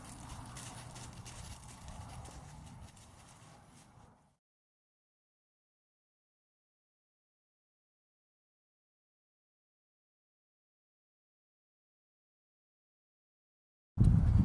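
Horse trotting steadily with clip-clop hooves over a dense, continuous texture for about four seconds, then silence before a loud burst returns at the end.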